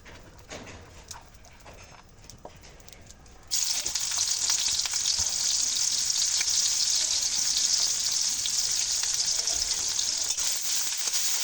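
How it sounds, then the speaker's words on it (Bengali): Chillies and chopped onion hitting hot oil in a kadai, a quiet patch of small clicks and then a sudden loud, continuous frying sizzle that holds steady to the end. "তেলটি গরম হয়ে গেলে ঝাল আর কুচানো পেঁয়াজ ভেজে নেব"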